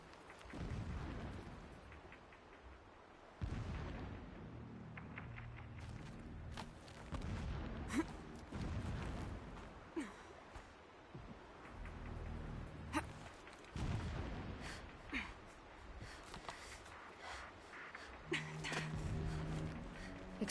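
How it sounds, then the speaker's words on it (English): Distant explosions in Horizon Zero Dawn rumble as low, muffled booms, several deep thuds spread across a quiet outdoor ambience, faint and far off. "Explosions in the distance."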